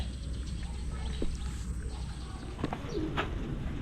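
Pigeons coo softly on a farm beside fish ponds, a few low cooing calls against steady outdoor background noise, with faint chirps from other birds.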